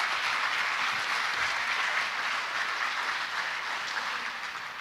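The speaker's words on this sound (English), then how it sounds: "Let's give them a quick round of applause" Steady applause from a hall audience at a high school Hall of Fame ceremony, a dense wash of clapping that holds evenly for about five seconds and fades slightly at the end.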